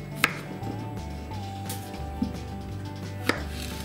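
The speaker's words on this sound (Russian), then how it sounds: "Также нарезаем огурчик." A knife chops through cucumber on a cutting board, a few sharp distinct cuts spaced apart, close and fairly quiet.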